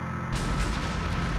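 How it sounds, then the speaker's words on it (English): In the Armored Brigade war game set in a 1971 US campaign, a TOW missile launches with a single sudden booming blast that rolls into a rumbling tail. "Here comes that tow missile."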